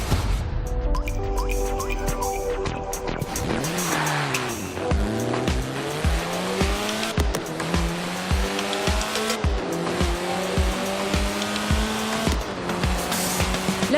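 A Lotus race car in Forza Horizon 4 revs hard through its gears with rising and falling engine notes, repeated quick shifts and tyre squeal, heard loud and close over music.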